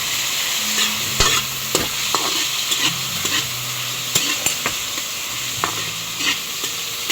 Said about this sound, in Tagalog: Akin pong munang hahaluin.